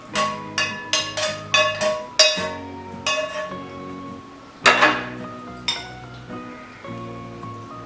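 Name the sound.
drained potatoes added to a pan and mixed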